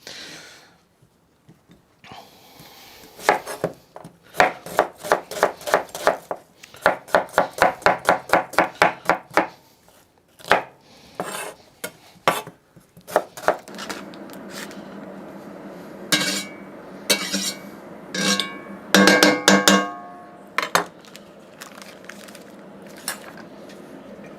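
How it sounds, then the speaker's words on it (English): Three onions sliced with a knife on a cutting board, bursts of rapid rhythmic chopping taps close by, pausing between runs, with some pan and utensil clatter and no talk. "I will slice 3 onions and brown them in butter in a cast iron pan."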